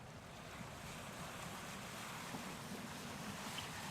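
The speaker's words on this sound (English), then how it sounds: "this incredible footage of our dismasted frigate under sail" A dismasted frigate sails on open sea: steady, broad wash of waves and rushing wind buffeting the microphone, continuous and fairly loud, with no voices.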